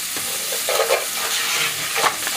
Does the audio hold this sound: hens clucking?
no